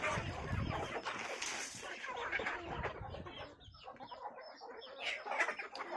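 A brooding hen clucks steadily among her chicks on a goat and poultry farm, a dense, continuous stretch of close clucking and scratchy fowl noise with no pauses.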